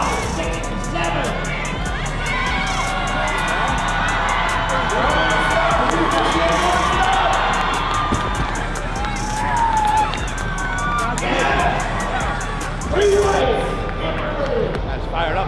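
A crowd at a powerlifting contest in a large hall cheers and shouts continuously, a dense roar of voices with thumps and yells rising near the end, while people talk nearby.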